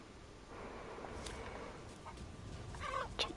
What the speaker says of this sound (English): Chicken! Hi, little chicken!